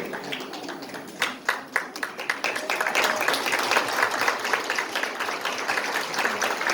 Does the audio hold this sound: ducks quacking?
no